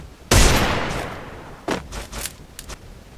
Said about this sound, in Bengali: দেখতে পাচ্ছেন কত সুন্দর হেডশট লাগতেছে ডেজার্ট ডিগল দিয়ে